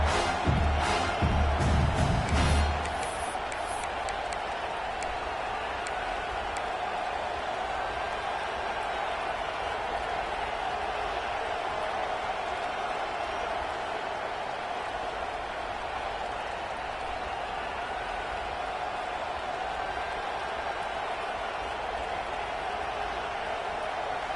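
A large stadium crowd at a football game roars continuously at a distance, a dense sustained cheer with a brief louder burst at the start.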